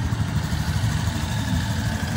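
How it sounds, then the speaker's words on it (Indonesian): Honda Scoopy 2019 scooter engine idling close by, a steady low rumbling putter that holds even throughout with no talk. "Jadi mesin ya. Masih halus, masih baru."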